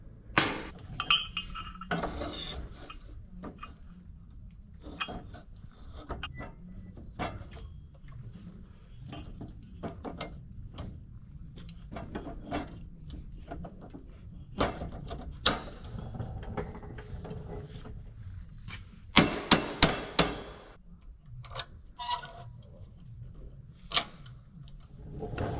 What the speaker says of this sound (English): I'm putting the nut on right now. So I'm gonna go ahead and get that thing tight